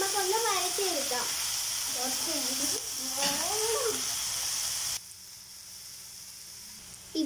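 Sliced onions with curry leaves sautéing in a pan give a steady, moderate sizzle under a voice talking, then the sizzle continues alone and softer near the end.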